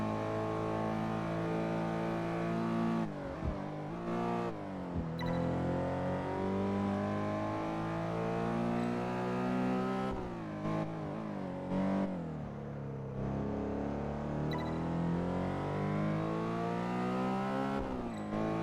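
A race car in Test Drive Unlimited 2 during a North Honolulu A3 championship lap, its engine revving up and down through repeated gear changes, with brief dips and rising pitch sweeps, loud and close throughout.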